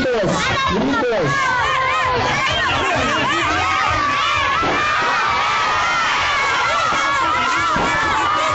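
Children shout and cheer loudly in a packed crowd at a lucha libre wrestling show, a dense wall of overlapping high-pitched voices and chatter that continues throughout, close and very loud.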